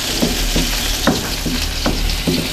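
Garlic sautéing in hot oil in a large wok-style pan, a steady sizzle with several soft rhythmic stirring scrapes spaced about every half second, close and moderately loud with no talk.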